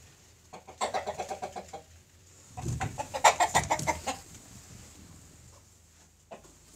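Chickens in a farm coop cluck in two rhythmic bursts of quick, close calls separated by a short lull, with a final lone cluck near the end.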